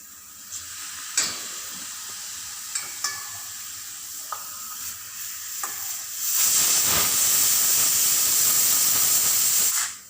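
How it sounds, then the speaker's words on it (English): Oil hisses and sizzles steadily as papadam fries, with a few light clicks and taps early on, then a louder, denser crackling surge. "So this is how I am frying the papadam."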